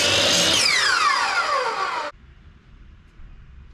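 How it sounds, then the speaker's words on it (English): A power drill bores through wooden decking on an equipment trailer, its loud whine dropping steadily in pitch as it bites in for about two seconds, then cutting off abruptly to quiet outdoor background. "start drilling holes."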